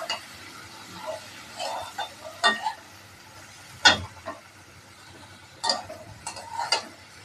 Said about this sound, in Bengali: এইবার আমি তাকে নাড়ছি, দেখুন কালারটা চেঞ্জ হয়ে যাচ্ছে